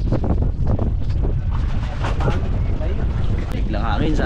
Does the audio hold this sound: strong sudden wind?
yes